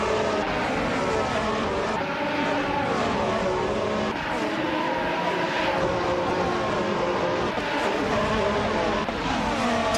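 Race cars in a video game, including a 2017 McLaren MCL32, roaring off the starting line together, a steady loud blur of high-revving engines that carries on without a break.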